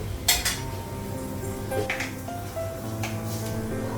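A lid is set onto a pot of cooking jute leaves with onion, giving a few close metallic clanks and clinks of pot and lid with quieter kitchen handling between them and no talking.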